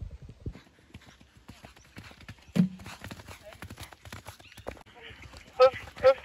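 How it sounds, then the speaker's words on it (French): Horses pass at a show jumping event, with close, regular clip-clopping hooves on hard ground and people talking throughout. "J'essaie de vous faire des petites vidéos aussi des chevaux qui passent."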